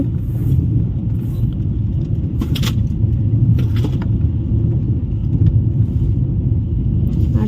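Steady low rumble with a constant hum, like riding inside a moving train, with a few faint clinks and rattles over the top.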